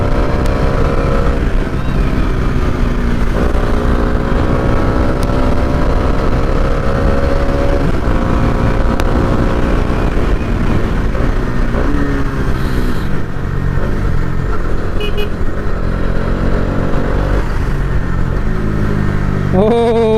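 A Bajaj Dominar 400 motorcycle on an evening ride, its engine a steady loud drone with rising and falling pitch as it accelerates and shifts, mixed with constant wind rush throughout.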